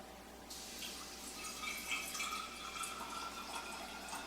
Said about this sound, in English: I can take a little strainer and hold it over another jar and carefully pour it.